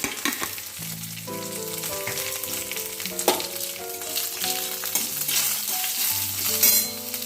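Cumin seeds spluttering in hot ghee at the start of a no-onion, no-garlic jeera rice, heard as a steady sizzle with a sustained musical tone running through it throughout.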